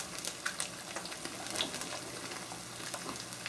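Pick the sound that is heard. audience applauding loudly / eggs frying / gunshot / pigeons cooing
eggs frying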